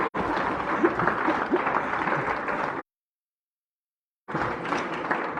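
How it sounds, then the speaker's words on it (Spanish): A church congregation claps steadily during a sermon, a dense sustained burst of applause that cuts off abruptly into silence, then resumes at similar loudness. "Aplauda, no tenga ahí los dos cruzadotes."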